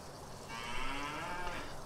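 A cow moos in the farming game Farming Simulator 19: one long, close, low lowing call, steady and loud, that fades slightly at the end, with no talk over it.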